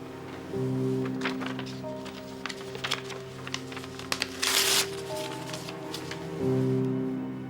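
Sheets of paper are crumpled and torn up in a dry, rustling stretch of crinkles and sharp rips, with a steady low hum underneath and a louder tearing burst near the middle.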